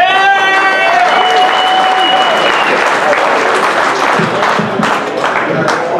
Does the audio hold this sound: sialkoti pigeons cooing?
no